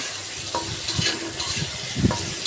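Spices fry in a pan for a light, pale curry, crackling and sizzling up close while a spatula scrapes and stirs in quick, repeated strokes.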